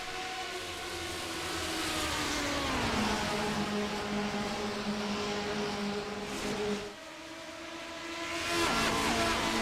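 A Lotus 49 race car engine screams at high revs around the Indianapolis oval during the Bill Holland 200, a loud sustained whine that climbs, drops briefly on a gear change, then rises again.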